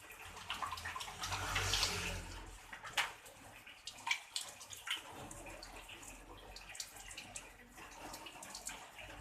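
Hands being washed with soap under a running tap: water streams and splashes steadily close by, with a louder gush near the start and then softer rubbing and dripping sounds, and no talking.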